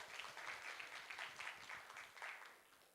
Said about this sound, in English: a round of applause for CS Mbadi